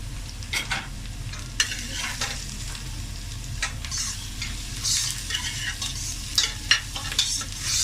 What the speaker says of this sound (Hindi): प्याज जो है वो सौते हो गया है।